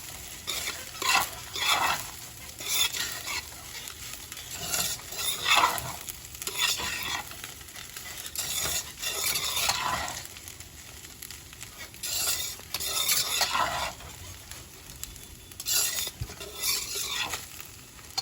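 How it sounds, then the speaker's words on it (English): Black beans and yellow rice stirred in a hot pan, with repeated rhythmic spoon scrapes over a continuous close sizzle and no talking. "Give it a nice stir."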